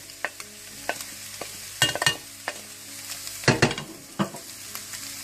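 A spoon stirs keema filling in a frying pan, giving scattered scraping clinks and soft sizzling, with a few louder knocks against the pan over a low background hiss.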